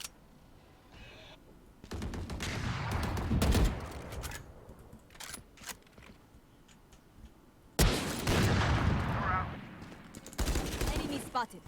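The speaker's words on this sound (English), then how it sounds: "he just shot me full white with a pistol" Pistol gunfire in a competitive first-person shooter video game match, bursts of rapid sharp shots in two loud clusters separated by quieter stretches, with a voice talking over it.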